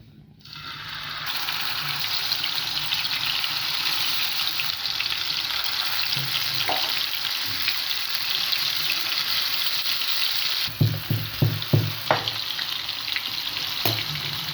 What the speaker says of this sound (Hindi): ये अब मैं इसको तवे के ऊपर फ्राई करूँगी